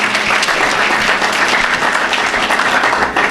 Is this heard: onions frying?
no